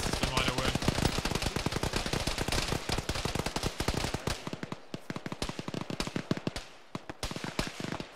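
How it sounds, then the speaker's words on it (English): Dense bursts of automatic rifle and machine-gun fire in a military shooter game, rapid rattling volleys filling the first half, then sparser single shots and short bursts with voices faintly underneath. "I got shot again, Van Owen."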